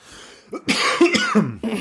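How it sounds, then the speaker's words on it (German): A few harsh coughs in quick succession, close and loud, with a short throat-clearing quality. "wir husten rum"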